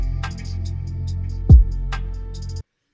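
Music mixed for an R&B sound with all the highs filtered out, leaving a muffled bass-heavy groove with one deep thump near the middle before it cuts off abruptly.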